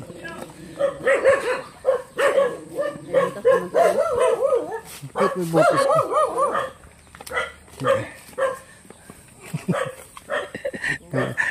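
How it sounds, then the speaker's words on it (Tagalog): A dog barks and yips repeatedly, fairly close, with people talking over much of it. "Teka lang, maulit. May aso."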